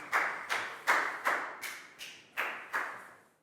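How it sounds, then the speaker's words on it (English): A Year 4 class claps together in about eight separate, evenly spaced beats, each a sharp, bright burst that quickly fades, with no talking. "High five and a big round of applause for Net."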